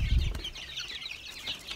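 Baby chicks in a coop peep in a rapid, high, continuous chorus, close and fairly loud, with a soft low thump at the start and no talking.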